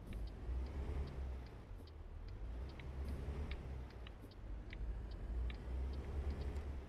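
Steady low engine drone of a truck driving in American Truck Simulator, heard from the outside camera, with faint repeated ticking clicks on top and no talk.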